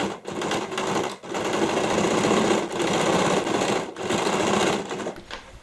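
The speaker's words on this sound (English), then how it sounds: "you're sewing through the lining and the main fabric" A sewing machine stitches through lining and jeans fabric for a bag, a loud close motor drone in several runs separated by short pauses.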